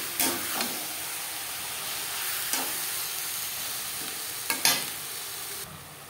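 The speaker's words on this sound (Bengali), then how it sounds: "মশলার সাথে মেটে বেশ ভালো করে মিক্স করে দেব।" Mutton liver frying with spices and a little fat in a pan, a steady sizzling hiss throughout with a few louder scraping stirs of a spoon near the start and toward the end.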